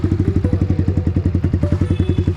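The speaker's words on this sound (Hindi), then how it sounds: "ये करते हैं यहाँ पर बाइक स्टार्ट।" A Yamaha R15 M with a loud Leo Vince exhaust thumps at a quick, even idle just after starting, each pulse a sharp, close, punchy beat repeating about ten times a second.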